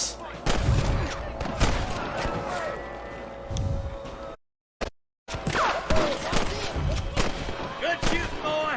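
Gunfire in the Red Dead Redemption video game, a run of sharp shots and bursts at close range mixed with shouting voices, cut by a brief gap of silence midway.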